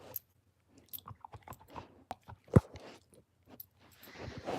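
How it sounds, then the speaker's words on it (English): A dog chews on a ball right beside a speaker, making close, irregular wet crunches and squeaky bites, sparse at first and then busier, with no talking. "She's just chewing on her ball right next to the speaker"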